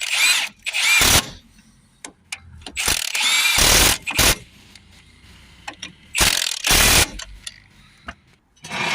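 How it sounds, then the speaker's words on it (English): Ratchet winding strut bolts back in on a Citroën C4 front suspension: loud, close bursts of rapid clicking pawl ratcheting, several separate runs with pauses and faint clinks between them; no talking. "we'll get those bolts wound back in"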